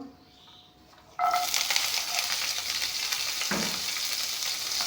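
Panch phoron spices hit hot oil in a pan and burst into a loud, steady sizzle after a quiet opening, with a brief stir partway through and no talk.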